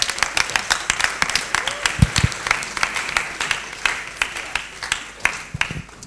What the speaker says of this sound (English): Can we just give my friend a very big hand clap?